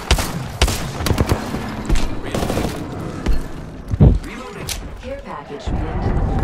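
Gunfire in the shooter game Apex Legends: loud bursts of rapid shots and heavy impacts in clusters, with players talking over and between the shooting.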